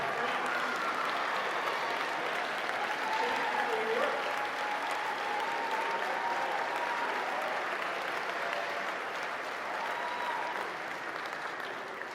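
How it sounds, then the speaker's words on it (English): Sustained applause from a graduation convocation audience of parents, grandparents and friends, a dense, even roar of clapping from a large crowd held for over ten seconds, fading slightly at the end. "stand, and we'll applaud you"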